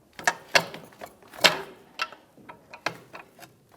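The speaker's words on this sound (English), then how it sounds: "So you take a pry bar and you're going to just pop it right out." Repeated sharp metallic knocks and clicks as a pry bar works at a 2011-2016 Hyundai Elantra CV axle to pop it out of the transmission, about a dozen irregular close strikes with short gaps between them.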